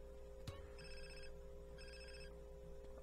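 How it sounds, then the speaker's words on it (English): A cell phone rings in the video game GTA San Andreas: repeated bursts of an electronic ringtone in a steady on-off pattern, clear but modest in level over a low steady hum, preceded by a single sharp click. "I gotta answer my cell phone."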